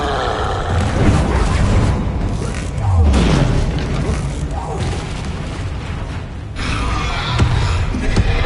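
A Confringo fire spell goes off during combat in a Hogwarts video game: heavy booming blasts land around the middle and near the end over dense, busy battle noise, with a voice talking over the action.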